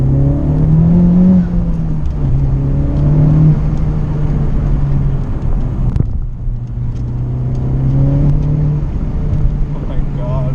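A 2019 Honda Civic Type R engine drones and rises in pitch while driving, a sustained cabin rumble with gear-change dips, heard close under people talking.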